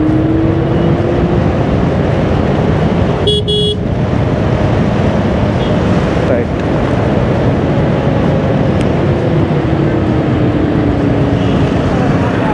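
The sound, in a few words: Simple One electric scooter riding at top speed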